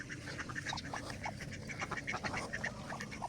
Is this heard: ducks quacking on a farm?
yes